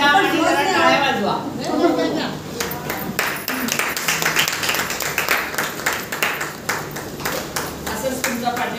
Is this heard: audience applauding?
yes